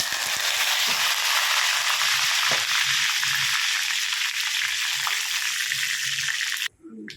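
Mustard seeds and curry leaves sizzle in hot oil with fenugreek, a loud, steady hiss that fills the clip before cutting off abruptly near the end, with a voice speaking faintly beneath.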